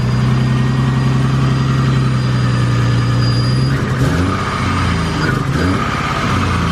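A Toyota Supra turbo engine fitted with a fabricated intercooler runs at a loud, close, steady idle, its low throb wavering and shifting partway through, with no talking.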